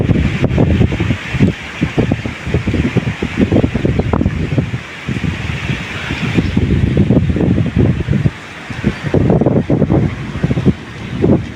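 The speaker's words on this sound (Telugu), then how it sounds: "గాలి చూడండి ఎట్లా పెడుతుంది" Strong wind during a thunderstorm roars and buffets the microphone in continuous gusts, loud and rumbling, with brief lulls between blasts.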